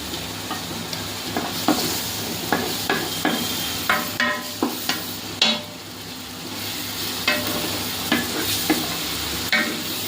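Garlic paste sautés in a pan for chicken biryani, with a steady close sizzle and frequent sharp scrapes and taps of a spoon stirring against the metal, heard alone with no talking.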